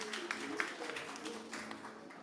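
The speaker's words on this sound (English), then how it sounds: "Please give a big round of applause to Debbie Gray." Faint, steady applause from a conference audience greets speaker Debbie Gray at a renewable energy session, with scattered clap transients running evenly throughout.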